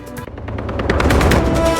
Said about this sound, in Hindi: दिल्ली के रोहिणी में भाऊ गैंग के बदमाशों ने की ताबड़तोड़ फायरिंग।